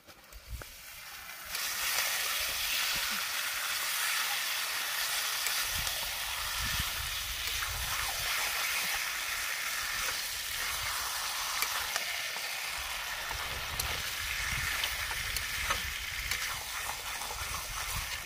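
Chicken hits a hot pan for chicken kosha cooked outdoors on a hillside. It bursts into a loud, steady sizzle and hiss after a quieter start, then crackles continuously on its own.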